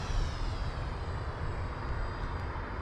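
The engine of a model L-39 jet aircraft runs at idle during a landing go-around as a steady, fairly faint broadband whine and rush with no pauses.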